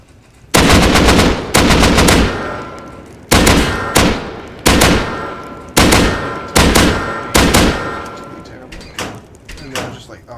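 AK rifle fire in the Rust video game, loud bursts of rapid automatic shots in about eight repeated volleys, each cutting off sharply, the later ones trailing slightly quieter.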